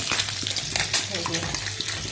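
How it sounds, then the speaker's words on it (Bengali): Small kachki fish fry in a pan of hot oil in a home kitchen, giving a steady close sizzle and crackle throughout with light clatter and a faint voice underneath. "আর এখানে দেখো ছোটো মাছটা ভাজছি"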